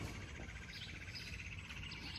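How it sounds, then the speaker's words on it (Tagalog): Steady chorus of high bird chirps and trills in a garden, continuous and fairly faint, with no voices. "Yung mga huni ng mga ibon, ang sarap ng hangin."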